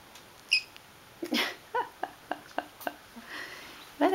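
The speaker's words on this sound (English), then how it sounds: "What a squeak you have there." A series of short, high-pitched squeaks from a Persian kitten, repeated roughly every quarter second, fairly close and moderately loud against a quiet background.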